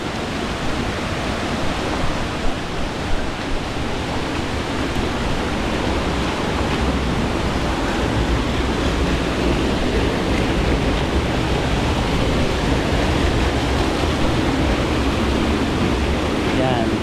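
Waterfall on the Talon Sinto river in Alfonso, Cavite, a constant loud broadband roar of falling water that fills the whole stretch without letting up.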